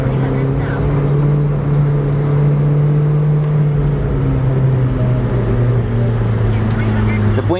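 Mid-engine Ferrari cruising on the road, a steady loud engine drone with strong low harmonics that shift slightly in pitch, plus continuous road and wind noise throughout.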